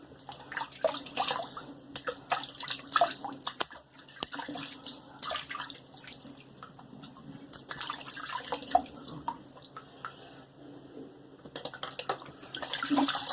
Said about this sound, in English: I'm going to do a little rinse on my face.